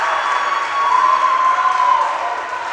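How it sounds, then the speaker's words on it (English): Auburndale basketball supporters at Newman Catholic in a gym during a boys high school game, applauding and cheering after a foul as a steady, dense wash of crowd noise with no individual voices standing out. "the Auburndale side of supporters here in Newman Catholic applauding the physicality"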